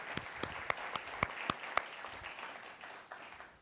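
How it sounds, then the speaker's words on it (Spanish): Audience applause at a church service in Miami: a soft bed of clapping with several sharp, distinct claps standing out near the front in the first half, then fading to a thinner patter. "pido un fuerte aplauso desde acá, desde Miami"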